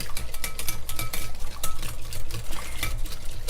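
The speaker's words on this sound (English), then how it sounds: "So you just want to stir this for like 30 seconds or so, just enough for the yogurt to kind of really incorporate into your egg mixture" A utensil stirs yogurt into an egg mixture in a bowl, making quick, continuous rhythmic clinking and swishing strokes against the sides, close and fairly loud, with no voices.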